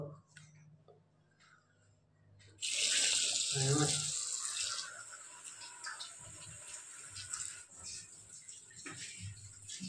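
Water poured from a tap, starting abruptly after a quieter stretch with faint background sounds, then a steady close splashing stream that gradually thins and settles.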